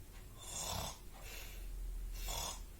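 Someone imitates snoring with their voice, making three rasping, breathy snores in a slow rhythm, close and fairly quiet.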